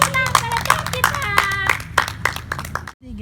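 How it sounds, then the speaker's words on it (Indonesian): Children clap their hands together in a fast, lively burst at a cheerful Saturday gathering, with high voices calling out over the claps and a steady music bed underneath, before everything cuts off abruptly near the end. "beri tepuk tangan pada Cok kita"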